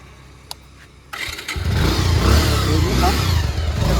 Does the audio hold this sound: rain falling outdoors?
no